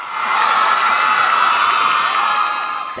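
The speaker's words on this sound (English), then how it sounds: "8 sororities and 7 fraternities are supported by their families, other Greeks, and friends by screaming and cheering" Families, friends and fellow Greeks scream and cheer for sorority and fraternity members at an annual step show, a dense, loud, sustained wash of crowd shouting and whooping that holds steady throughout.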